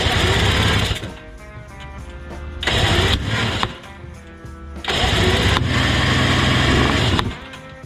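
A big bore two-stroke engine with the compression relief on is cranked over repeatedly while trying to start, loud rattling mechanical bursts alternating with lower running between attempts, close by with no talk.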